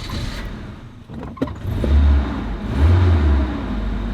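A car engine cranks, catches and settles into a low idle to warm up, with deep rumbling swells from close by and no talking.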